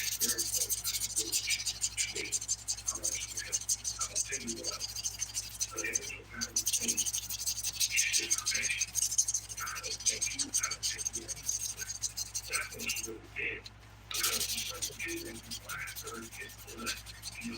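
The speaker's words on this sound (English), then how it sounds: "I am going to buff our nails real." Close, steady scratchy rubbing of a nail buffer worked back and forth across fingernails during a dip powder manicure, a continuous soft rasp with brief pauses, while a person talks quietly over it.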